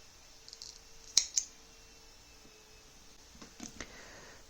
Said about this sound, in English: and cut the excess